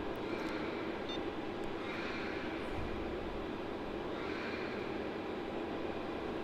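A Virgin Australia Boeing 737-800 arriving at Melbourne Airport, its jet engines producing a distant, steady whooshing roar that holds at a faint, even level.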